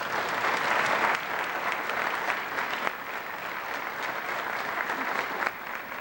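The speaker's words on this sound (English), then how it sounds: "So let's clap for the solo ensemble people." An audience at a high school fine arts banquet claps for the solo ensemble performers, a steady, full round of applause from a crowd that holds evenly for the whole stretch and eases off slightly partway through.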